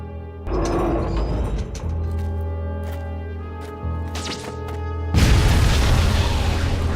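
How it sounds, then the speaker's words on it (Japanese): An abandoned factory explodes in an anime action scene, with a booming blast followed by rumbling debris and a second, louder burst of explosion noise near the end. "廃工場が爆発しました。"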